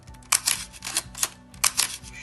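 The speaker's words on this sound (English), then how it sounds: "Shutter does fire on all speeds." A Nikon F film camera fires its shutter several times in succession, each release a sharp, close mechanical clack with a brief whirring tail, spaced irregularly and heard alone in a quiet room.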